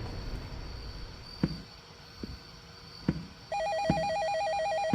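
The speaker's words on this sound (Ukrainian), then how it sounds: "Відповідь на дзвінок." A telephone rings in the video game Customer Support, a repeating electronic ring with regular pulses that starts partway through after a few faint clicks and thumps.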